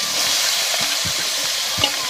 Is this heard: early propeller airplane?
no